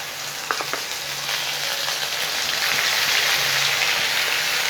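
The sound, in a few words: ground masala paste sizzling in hot oil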